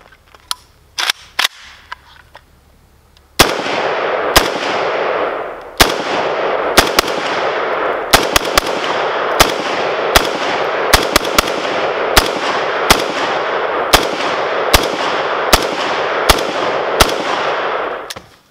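An Arsenal SAM7R Bulgarian milled AK-47 rifle fires outdoors: a few sharp shots open, then a loud run of single cracks at a steady, unhurried pace, each one ringing out with a long echo.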